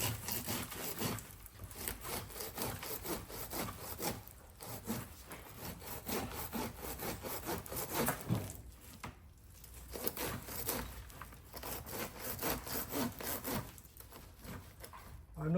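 A hand saw cuts through a beech tree branch with steady back-and-forth rasping strokes. The strokes are close and continuous for the whole stretch, with only brief pauses, and no talking.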